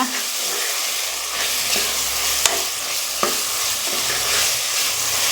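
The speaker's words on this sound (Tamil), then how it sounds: "பாருங்கள், நல்லா எண்ணெய்லாம் மேலே வர மாதிரி வதங்கி இருக்குது." Onion masala for vada curry sautéing in oil in a pan, giving a steady close sizzle with a few sharp clinks of stirring, and no voice over it.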